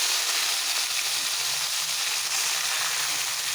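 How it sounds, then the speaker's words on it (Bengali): Steamed pea shoot greens go into hot oil in a home kitchen pan, giving a steady, soft, even sizzle with no talking. "এখন ভাপিয়ে রাখা শাকগুলো এর মধ্যে দিয়ে নেব।"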